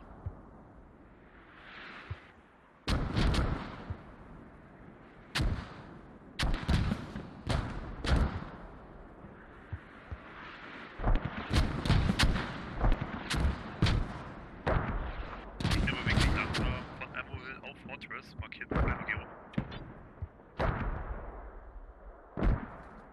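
Mortar shells land in the video game Squad as a string of heavy distant booms and sharp cracks, spaced irregularly, some in quick clusters, over a low rumbling background.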